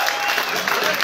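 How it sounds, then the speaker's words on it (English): Applause from a small audience at a blues club show at Crossroads in Garwood, New Jersey, a dense steady patter of clapping with no voices over it through the whole moment. "So please give him a big round of applause"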